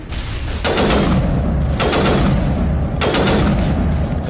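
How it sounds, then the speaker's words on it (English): Three loud, booming sniper rifle shots in Mass Effect, evenly spaced about a second and a half apart, each a heavy blast with a long rumbling tail, close and dominant. "I'm switching to the sniper rifle."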